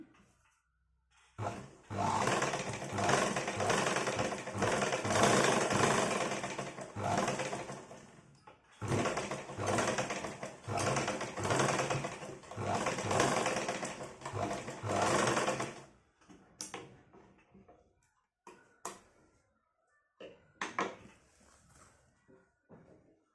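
A sewing machine stitches the side seam of a top in two long, loud, steady runs, then finishes with several short, stop-start bursts.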